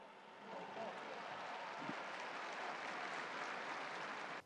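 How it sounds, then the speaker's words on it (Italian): A large crowd applauding, a broad continuous wash of clapping that swells in after a brief pause and holds steady until it cuts off. "Un applauso ai vigili del fuoco"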